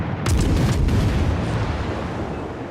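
Naval guns firing on the German destroyer V 25 in the World of Warships game, a loud burst of booming shots packed into the first second that fades into a rumbling tail.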